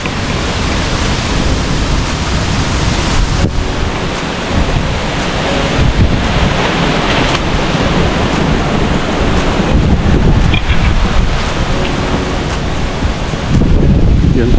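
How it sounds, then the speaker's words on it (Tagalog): Strong typhoon wind roars and buffets the microphone in loud, rushing gusts, a constant blustery noise with brief louder bursts. "malakas po hangin"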